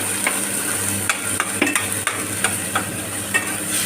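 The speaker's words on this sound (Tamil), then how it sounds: "இப்போ நம்ம இந்த அரைச்ச பேஸ்ட்டை இந்த ஆயிலில் போட்டுக்குவோம்." Ground chilli paste sautéing in hot oil for chilli bread, a steady sizzle with intermittent scraping and stirring strokes of a spoon against the pan, close and continuous with no talking.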